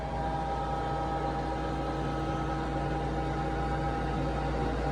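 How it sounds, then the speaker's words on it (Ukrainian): A grain dryer's burner lights after the start button is pressed, giving a steady, dense roar of flame and blower that stays constant and loud throughout, with no voices. "Є запал. Все, полум'я загорілось."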